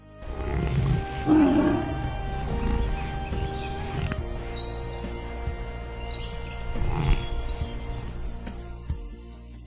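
A lioness on the African savannah gives deep, drawn-out roars, loud and fairly close, rising in two main surges over a low rumbling background.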